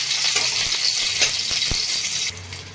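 Sliced amla (Indian gooseberries) fry on a hot tawa over low gas, a loud, continuous close-up sizzle with a few sharp clinks of a spatula stirring, the hiss easing slightly at the end.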